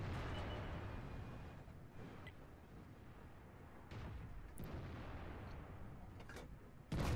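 Tank cannon shots from a T-30 firing high-explosive shells in World of Tanks, several heavy booms spaced apart over a constant rumbling battle backdrop, with a loud blast closing the stretch.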